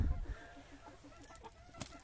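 Hens peck at grain seed mix scattered on the ground outside, giving soft, quiet, repeated clucks in a loose rhythm, with faint background noise.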